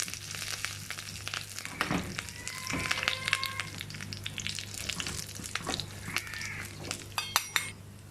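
Hot oil with fried shallots and curry leaves is poured over cooked jackfruit, giving a soft sizzle and crackle with clinks of a metal pan and spoon, fairly quiet and close.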